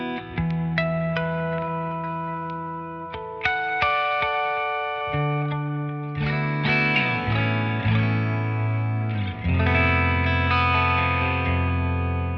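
Electric guitar with a washy, echoing tone: chords and single notes ring out and repeat, smeared by ambient reverb and trailing delay from DAW plugins, played alone without any voices.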